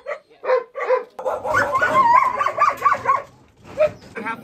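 Many caged dogs at a South Korean dog meat farm bark, yip and whine together, a dense chorus of overlapping yelps that swells and then thins.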